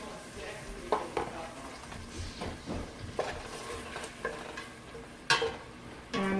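Finely diced red onions cook in a saucepan for soup, a soft, steady sizzle under intermittent stirring scrapes and light clinks of utensil against pan, with no talking.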